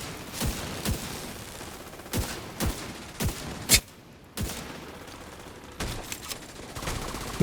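Gunshots ring out from a sniper rifle in a video game: about ten sharp, close reports at irregular intervals, some paired quickly, over a low background hum.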